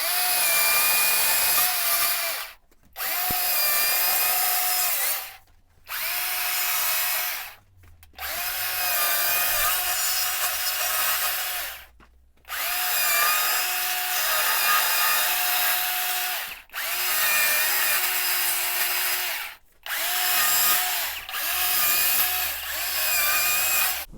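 A chainsaw carving a tree trunk, cutting in and up beneath the branches: loud, close bursts of a high-revving engine, each several seconds long, separated by short drops to idle.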